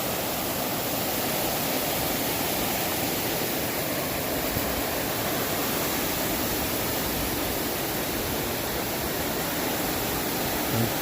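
Below a dam near a mountain-top lake, water rushes down in a dense, unbroken roar, loud and close, holding steady with no voices.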